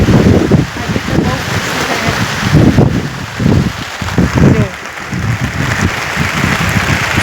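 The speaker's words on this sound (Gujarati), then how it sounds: "વરસાદ આવે હોય તમે જોઈ શકો." Heavy monsoon rain falls outdoors as a loud, continuous broadband wash with gusty rumbling, steady throughout with no talking.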